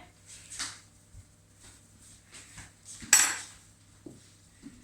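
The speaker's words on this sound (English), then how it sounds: "And I need to mix it all together, slowly." Utensil clinks and scrapes against a bowl while batter with baking soda is slowly mixed, with soft, irregular taps and one sharper clatter near the end, fairly close and quiet.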